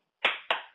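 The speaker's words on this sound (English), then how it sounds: "Round of applause." Three sharp hand claps ring out in quick succession, each a crisp close slap with a short decaying tail, at the end of a talk show interview.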